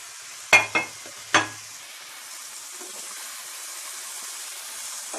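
Makhana (fox nuts) go into a pan with a few sharp clatters and scrapes, followed by a faint, steady sizzle as they fry.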